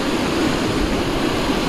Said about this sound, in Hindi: लेकिन ये देखिए कितना तेज पानी यहाँ पे आ चुका है जहाँ पे गाड़ी है